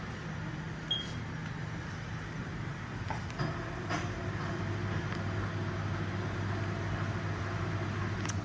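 A Haas VF1 CNC mill hums steadily on restart while searching for a gear, a continuous low mechanical drone with faint clicks and a few brief knocks, no voices.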